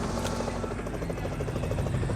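A helicopter runs loud and close, its rotor thumping in a steady rapid chop, heard alone with no voices.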